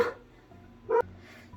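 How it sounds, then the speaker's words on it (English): A dog gives two short barks indoors, one at the very start and another just under a second later, fairly close, with quiet room tone between. "sorry about the dog."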